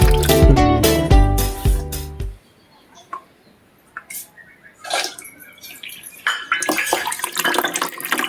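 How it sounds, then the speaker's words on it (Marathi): Water runs out of a broken air cooler, heard as trickling, dripping and splashing after a burst of loud tonal sound at the start. The flow rises and falls and gets busier toward the end. "हे काय 3 वाटे चाललंय पाणी"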